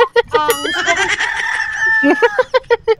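A chicken clucks and squawks in short bursts, with a drawn-out crowing call in the middle, close and fairly loud.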